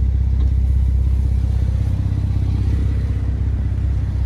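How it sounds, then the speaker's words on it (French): A warmed-up Porsche 992 Carrera S Cabriolet flat-six runs loud and close, a dense, steady, low engine drone that holds at an even level the whole time with no talking. "le moteur était déjà chaud évidemment avant de mettre les coups de gaz"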